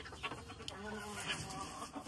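Chickens on a poultry farm cluck quietly and intermittently at a moderate distance, with a steady low background murmur.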